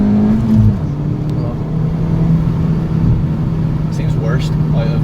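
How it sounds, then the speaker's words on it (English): A Ford Fiesta ST with Mountune mods accelerates hard with wheel hop, heard from inside the car. The engine drone is loud and steady, its pitch shifting briefly near the start, with rough low rumble and faint road noise throughout. "So let's see if we can get some example wheel hop."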